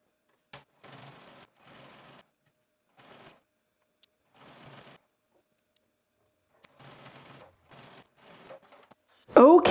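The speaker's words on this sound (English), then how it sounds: "let's head to our sewing machine and let's stitch that down" A sewing machine stitches pocket binding onto a bodice in several short, rapid whirring bursts separated by pauses and small clicks, close and clear, ending with a loud handling knock.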